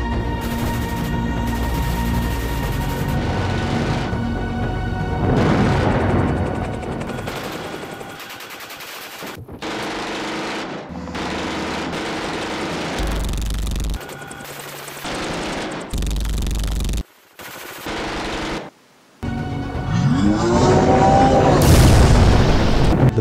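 Machine-gun bursts and heavy explosions fill a battle scene in a foreign action film, loud and near throughout, with abrupt cuts and booming blasts near the end.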